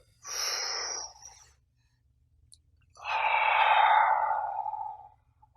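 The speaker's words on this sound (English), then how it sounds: "So lifting breaths, simple to do, powerful results." Two long, deliberate breaths for a lifting-breath exercise, a short sharp inhale followed after a pause by a longer, fuller exhale, close and clear with no talking.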